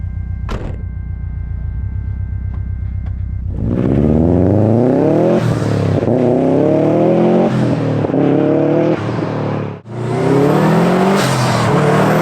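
Subaru Impreza GC STI, fitted with new suspension and wheels, idles and then pulls away, its engine revving loudly and rising through the gears with a few shifts. It is close and sustained, and no one speaks.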